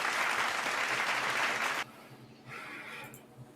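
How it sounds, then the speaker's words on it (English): Studio audience applause welcoming a guest on a sports talk show, a dense burst of clapping that cuts off abruptly partway through, leaving quieter background sounds. "give a nice round of applause for our first guest"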